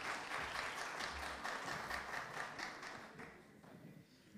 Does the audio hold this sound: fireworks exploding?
no